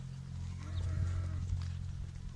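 Sheep and lambs on a farm bleat faintly over a low, steady rumble of background noise, a few soft calls blending together.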